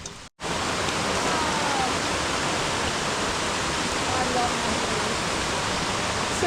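A waterfall on a canoe portage route in the Canadian outback roars as a steady, dense wash of rushing water, close and loud, unbroken from start to finish.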